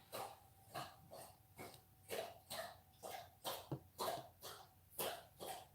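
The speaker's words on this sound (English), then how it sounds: "Does anybody else have a dog that drinks really loud and obnoxiously?" A dog laps loudly from a water bowl, a steady run of about a dozen wet slurping pulses roughly every half second, close and fairly quiet, with no talking.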